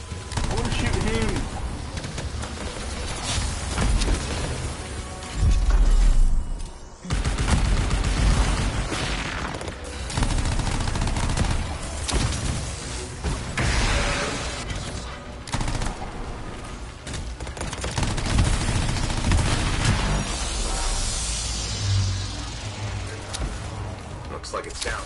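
Gunfire aimed at an enemy in the video game Anthem, rapid bursts and bangs running through a dense, loud battle soundscape, with a player talking over the action.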